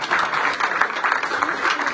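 A French audience applauds a guest at a public meeting with the Grand Rabbin de France, the clapping dense and steady for two seconds.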